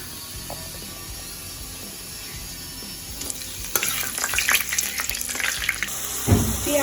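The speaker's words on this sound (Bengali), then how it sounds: "এর মধ্যে দিয়ে দেবো হচ্ছে গোটা গরম মশলা, জিরে ফোড়ন দিয়ে দিচ্ছি।" Whole garam masala and cumin seeds crackle and sizzle in hot oil in a wok over a gas flame, a steady frying hiss that swells louder partway through, with scraping and stirring noises and no talking.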